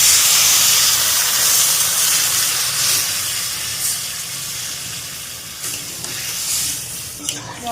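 Water poured into masala frying in oil for a pointed gourd and prawn curry, giving a loud, steady steaming hiss and sizzle that slowly fades, with small pops near the end.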